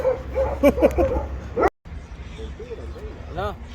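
Several dogs bark, yip and whimper by a riverside near a large bridge, sounding close in short, excited bursts mixed with people's voices.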